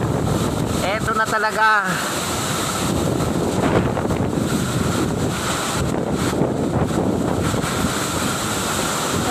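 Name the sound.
strong wind in the town of Calauag, Quezon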